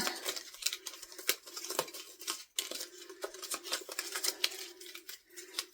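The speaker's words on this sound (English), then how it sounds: "And we're on yellow again. That's another clover card. Back to our clover cards. Let's go ahead and just shuffle them up again a bit." A deck of oracle-style clover cards is shuffled by hand, giving a run of soft, irregular riffling and slapping card sounds, close up and without any speech.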